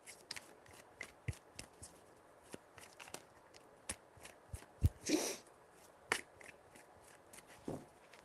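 Tarot cards are shuffled by hand: scattered soft taps and flicks, then one louder riffling burst midway and a few more slaps near the end, close and quiet, with no voice.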